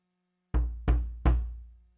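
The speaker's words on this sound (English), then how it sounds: "this last one here is more of a orchestral kick drum sound" Three deep, booming orchestral kick drum hits land in quick succession, each decaying into a short low resonance, isolated against silence.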